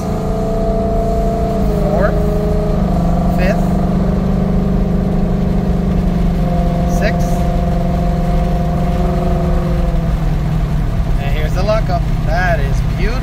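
A car with a 6R80 automatic transmission and tuned torque converter lockup drives along with its engine humming steadily through the gears. A driver talks over the loud, continuous engine drone, which carries a steady low pitch.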